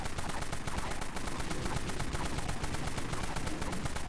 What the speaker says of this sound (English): Let's try this Warhawk. in-game weapon right here, guys.